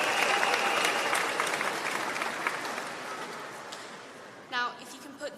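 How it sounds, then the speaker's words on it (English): Graduation-ceremony audience applauds for pizza in a light-hearted crowd poll, a broad wash of clapping that starts loud and gradually thins out, followed by a short spoken phrase at the end. "can we have a few seconds of clapping for pizza?"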